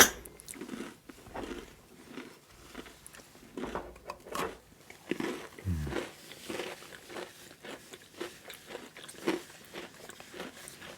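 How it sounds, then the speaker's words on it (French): Crunchy dark chocolate, a nougatine from Bayonne, is bitten and chewed close up, with repeated crisp crunches and wet chewing over about eleven seconds and no talking. "C'est croquant. C'est du bon chocolat noir. Et c'est croquant."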